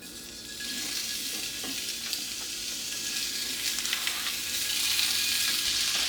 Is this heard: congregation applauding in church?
no